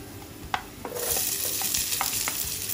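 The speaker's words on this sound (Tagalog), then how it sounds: "i-add na natin yung ating onion." Chopped onion for beef kaldereta, a Filipino beef stew, drops into a hot pan with a few clinks of a utensil, then settles into a steady, close sizzle with occasional stirring scrapes.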